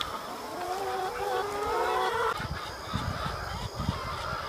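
Pastured hens on a farm flock of about 1,000 give off clucks and honking calls nearby, one drawn-out call early, then scattered short cackles and rustling.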